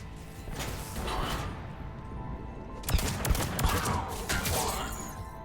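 Pistol fire and combat effects from the video game Mass Effect 3 come in dense, loud bursts of shots and crashes that surge twice over a busy background of battle noise.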